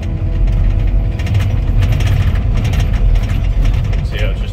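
Komatsu IMC dozer engine running loud and steady in a work yard, with a dense low rumble and constant mechanical clatter and clanking of the tracks throughout.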